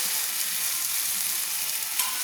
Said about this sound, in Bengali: তো আমি আলুগুলো যে ভেজে রেখেছিলাম সেগুলো দিয়ে দিচ্ছি